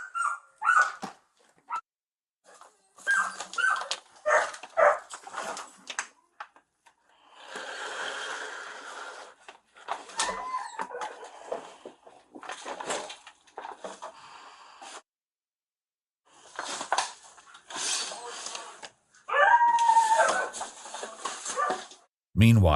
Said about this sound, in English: More dogs. 3 dogs. All malnourished.